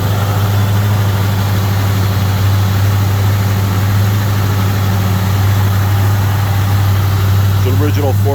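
A 1976 Oldsmobile Cutlass Salon with its original 455 V8 and full dual exhaust idles after a cold start, a steady close-up low rumble that holds evenly throughout with no revving.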